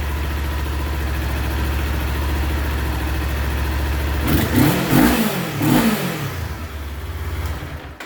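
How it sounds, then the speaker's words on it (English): Kawasaki Z400 motorcycle engine running steadily at a close, loud idle, then revved in a few short blips before settling back to idle. "you heard it. It's running again"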